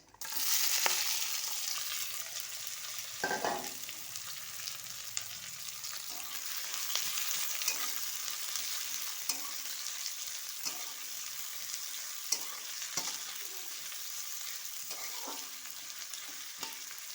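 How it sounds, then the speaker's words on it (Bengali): Chopped onions frying in hot oil make a soft, steady sizzle with intermittent stirring scrapes and taps against the pan, fairly quiet and without talk. "পেঁয়াজটা লাল করে ভেজে দেব।"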